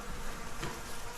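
Honey bees fly around a beehive cutout with comb lying on the ground. Their soft, continuous buzzing hum comes without pause and without any voice.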